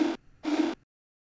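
Two short, ringing metallic thumps from a kick drum sample pitch-shifted, sidechained and processed through a resonator, evenly spaced, each cut off cleanly before silence.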